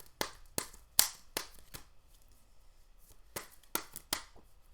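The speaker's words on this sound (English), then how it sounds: "Kind of shuffle the old-fashioned way here." A deck of playing cards is shuffled by hand the old-fashioned way, giving a series of sharp riffling bursts in two clusters separated by a quieter pause, close up with no talking.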